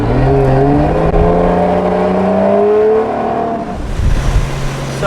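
A 2JZ-powered drift car runs on a dyno, its engine droning loud and steady with rising harmonic tones for about three seconds before settling to a rougher, lower idle-like rumble.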